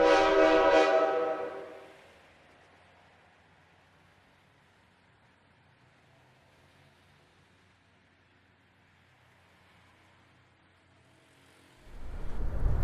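A train in downtown Kirkwood, Missouri sounds a loud horn and rumble at the start, fades to a faint distant hum, then swells again with a close horn blast at the end.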